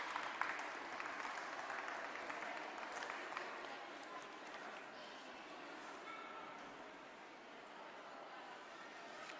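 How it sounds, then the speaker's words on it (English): Broad, steady applause from a chess festival audience, a dense wash of many hands that holds level and eases slightly toward the end, with some faint sharper sounds scattered through it. "Ladies and gentlemen, a big applause for Jerry Nash."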